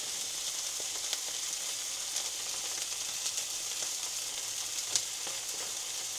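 Slices of Spam sizzle in a frying pan seasoned with chip spice, a loud, steady crackling hiss close by with occasional sharp pops and light scraping.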